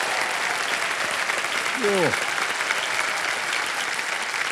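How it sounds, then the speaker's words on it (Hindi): A studio audience on a TV quiz show applauds loudly and steadily throughout, a dense continuous roar of clapping, with a brief vocal exclamation heard over it. "इसलिए जोरदार तालियां सबसे के लिए"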